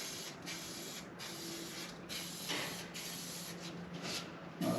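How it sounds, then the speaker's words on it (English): Primer paint sprayed from a spray gun in steady, continuous hissing bursts with brief pauses between passes, close and fairly loud over a workshop background. "we're just putting a bit of primer on here now"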